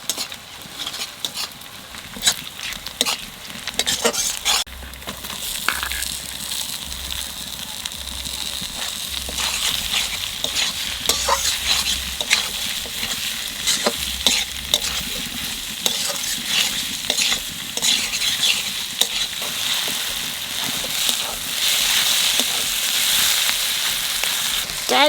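Onions sizzle in hot oil in a pan while a utensil stirs and scrapes them, the steady frying hiss broken by irregular clinks and scrapes and growing louder near the end; a voice talks faintly at times.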